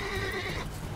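A short, close horse whinny from The Witcher 3 game world, fading after about half a second into low ambient rumble.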